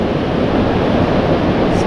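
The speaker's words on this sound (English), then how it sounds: "Good sized waves coming" Stormy surf rolls onto South Lido beach in a continuous loud roar, with wind buffeting the microphone throughout.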